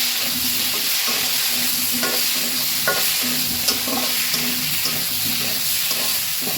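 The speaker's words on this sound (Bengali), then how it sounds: "চিনি দিয়ে মশলাটা কষিয়ে নিই" Spice paste cooking down with a little sugar in a pan for a rohu fish and potato curry, giving a steady close sizzle with repeated scraping stirs throughout and no talking.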